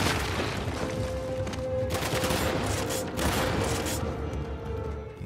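Gunfire in the video game Uncharted: The Lost Legacy, a sustained battle din of repeated shots and bursts with two louder blasts near the second and third seconds, constant and fairly loud throughout.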